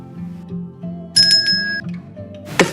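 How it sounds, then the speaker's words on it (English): A bright bell chime rings out over soft background music, followed shortly by a sharp clicking hit near the end. "don't forget to hit the notification bell."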